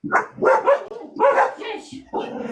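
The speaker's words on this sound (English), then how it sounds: "my dogs are going nuts" Several dogs bark and yip in quick, loud bursts nearby, an excited run of barks with short pauses.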